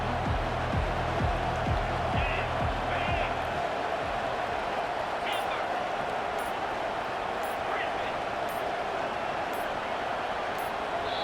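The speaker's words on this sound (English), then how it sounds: "the crowd forces a false start" Stadium crowd roaring at a college football game between BYU and Arizona State, a loud, sustained wall of noise with whistles and shouts rising out of it, and a rhythmic low thumping during the first few seconds.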